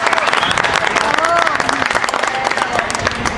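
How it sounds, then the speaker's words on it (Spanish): A crowd applauds with dense, continuous clapping, while a voice carries faintly over the noise. "vamos a recibirlo como corresponde, con un fuerte aplauso"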